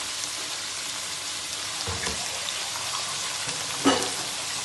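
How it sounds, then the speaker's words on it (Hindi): Keema with chopped capsicum sizzles and crackles steadily in a hot pan while a spoon stirs it, with a couple of louder scraping clacks standing out near the end. "शिमला मिर्च ऐड करने के बाद चम्मच हिलाएंगे, इसमें चम्मच के साथ हिला देंगे इसको।"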